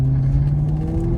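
Maserati Sport GTS engine revving hard in sport mode, a loud, steady close-up roar with a strong low drone throughout.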